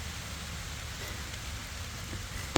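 Steady rain falls outdoors around a person, a constant dense hiss of drops landing on surfaces with a single sharper tap near the end and no talking.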